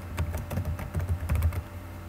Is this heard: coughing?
no